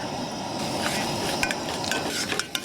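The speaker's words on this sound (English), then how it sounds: "And you dump those into the melted butter and stir." Flour and seasonings being stirred into melted butter in a pan at a Death Valley campsite, a steady scraping, sizzling stir with a few sharp clicks of the utensil against the pan.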